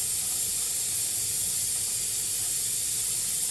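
Chopped onions, two large ones, sizzle steadily in hot oil in a clay pot for a mutton dish, a continuous close, fairly loud broadband hiss with no talk over it.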